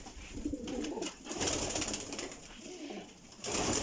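Teddy pigeons in a high-flying pigeon breeding setup coo in soft repeated low calls, close by, with brief wing rustles and no speech.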